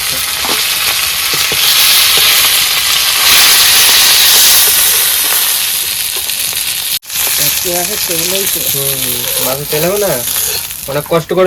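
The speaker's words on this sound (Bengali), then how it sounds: "প্রথমবারে কিন্তু মাছ ভাজা হয়ে গেছে" Bhetki fish pieces frying in a pan of hot oil at home, a loud continuous sizzle and hiss close by, cut off abruptly partway and followed by people talking.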